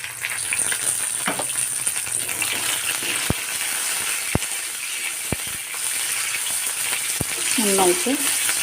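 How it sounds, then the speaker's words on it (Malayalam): Garlic, green chilies, dried chilies and curry leaves sauté in hot oil, giving a steady close sizzle with several sharp clicks of a utensil against the pan and brief scraping stir sounds. "വഴറ്റി കൊടുക്കാം എല്ലാം അത് മൂത്ത് വന്നിട്ടുണ്ട്"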